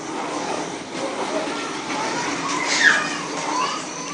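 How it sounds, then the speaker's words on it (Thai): Children play nearby, their distant shouts and chatter forming a continuous, moderately loud background din with occasional brighter cries. "เด็กเล่นอยู่นะคะ อาจจะเสียงดังนิดนึงนะคะ"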